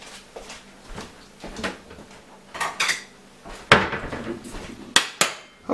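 Kitchen clatter while making lasagna cupcakes: a pot of pizza sauce set down among several sharp metallic knocks and clinks of pans and utensils, irregular and close.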